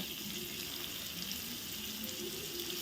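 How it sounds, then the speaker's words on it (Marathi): Steady, quiet sizzling of onion frying in hot tempering oil for sambar, a continuous hiss with no talking. "आता या फोडणीमध्ये आपण भाज्या घालूया कांदा घालूया"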